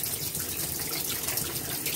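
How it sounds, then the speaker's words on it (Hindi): Water splashes and churns steadily in the tub of a semi-automatic washing machine loaded with clothes and soapy detergent, a continuous close wash with no voices. "यहाँ पर आप देख सकते हैं ये जो वाटर स्प्लैशेज है ना"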